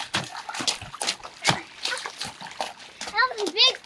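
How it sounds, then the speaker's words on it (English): A child jumps into a muddy rain puddle, making several sharp splashes amid excited children's voices and chatter, with a high squeal near the end. "That was a big splash."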